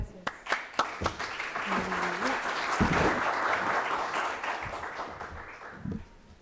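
An audience at an innovation and impact-entrepreneurship conference applauds its speakers: a dense wash of clapping that swells after a few sharp early claps, holds steady, then fades out near the end, with a voice briefly heard over it.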